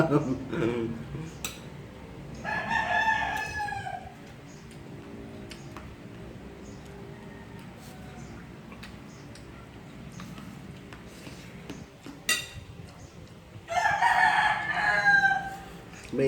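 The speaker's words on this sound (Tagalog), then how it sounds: "manok namin, no, panabong." Two loud crows from fighting roosters, one early and one near the end, over a busy outdoor background with scattered clatter and faint voices.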